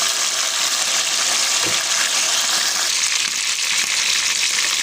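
Loud, continuous sizzling of sweet potatoes frying in hot oil, a dense crackling hiss that never lets up.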